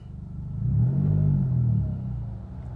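A stock car with a single-tip exhaust and a tuned remap launches hard from a standstill for a 0-100 timing run in S gear, its engine rumbling and rising in a steady, loud surge that swells and holds before easing slightly.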